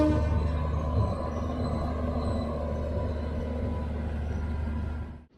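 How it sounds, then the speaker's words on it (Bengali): An express train stands at Kanpur Central station with a loud, continuous low rumble and engine hum, steady and close, fading out abruptly at the very end. "সকালে ঘুম ভাঙলো আর ট্রেন এসে দাঁড়ালো এই কানপুর সেন্ট্রালে।"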